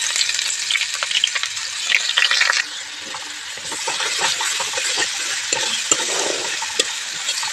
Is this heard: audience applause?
no